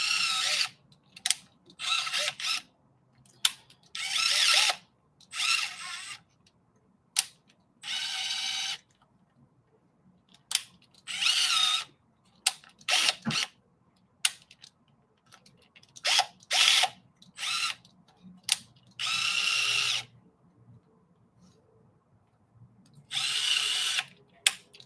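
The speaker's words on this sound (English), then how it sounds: "And I will be careful with the drill" A power drill with a clutch setting, used while building an RC kit, runs in repeated short bursts of whirring and ratcheting separated by brief pauses, close and fairly loud.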